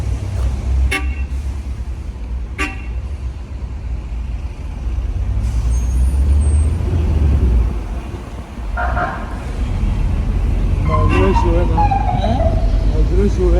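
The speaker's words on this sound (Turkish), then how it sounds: "Kralın kornası takılı kaldı." Car horns blare in chaotic Cairo street traffic over a constant low rumble of engines, with short honks sounding near and far at intervals while people talk over the din.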